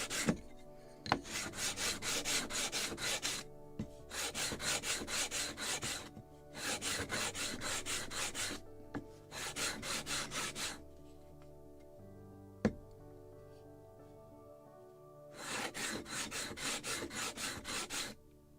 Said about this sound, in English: I will sand that side.